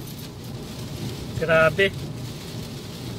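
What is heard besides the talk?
heavy rain with thunder on Corfu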